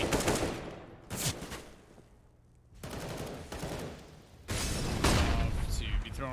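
AK rifle fire in a Counter-Strike match on the Mirage map fires in several loud bursts of rapid shots, separated by short gaps, while a commentator talks over the action.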